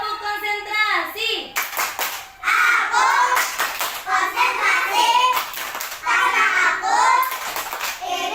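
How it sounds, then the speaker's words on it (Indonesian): Children in a classroom doing a rhythmic clapping game, with sharp unison claps in counted bursts between the children's chanting voices. "Tepuk konsentrasi."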